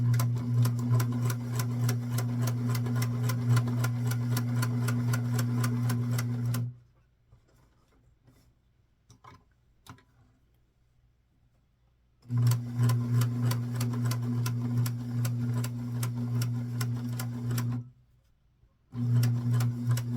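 A sewing machine runs a straight stitch on setting number 2 along a doll dress, with two long, steady, rapid-ticking runs separated by a quiet pause and a brief restart at the end.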